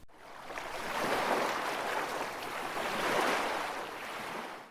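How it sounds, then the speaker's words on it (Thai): Steady wash of sea waves lapping against a boat, continuous and moderately loud, with a low rumble of the boat's engine as it moves and no voices. "เสียงของคลื่นทะเลปะทะกับเรือเบาๆ"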